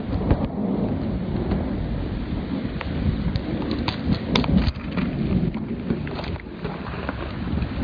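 A supercell thunderstorm near Saint-Cyr-au-Mont-d'Or in France: rolling thunder rumbles continuously over steady rain patter, broken by several sharp cracks, loud and close, with no talk.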